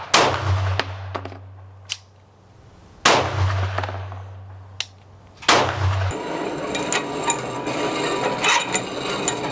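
Pistol shots fired at a target ring out as three sharp, loud cracks spaced a few seconds apart, each with a short echoing tail, followed by rustling handling noise.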